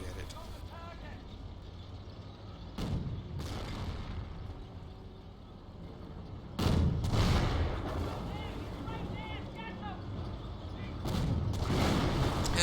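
Artillery and gunfire boom through a video game battle at Angoville, with distant heavy blasts at intervals under steady rumbling background noise while someone talks throughout.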